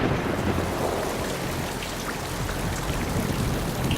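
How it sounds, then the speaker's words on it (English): Steady heavy rain hisses continuously, standing in as a documentary effect for methane rain on Titan, with a low rumble underneath and occasional distinct drops. "when condensation occurs on this planet, it rains methane"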